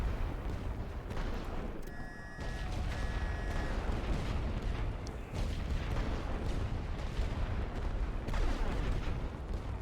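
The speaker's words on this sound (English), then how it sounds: "I'm gonna wait for this barrage to finish" Artillery barrage in The Great War: Western Front, a continuous rumbling roll of distant shell bursts and booms, steady and loud throughout with a brief high tone early on.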